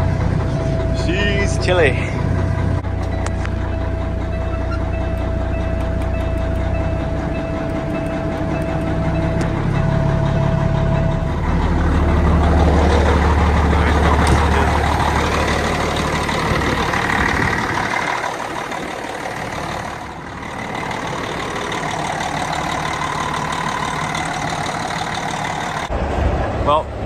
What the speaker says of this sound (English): let's fire this baby up and get on the road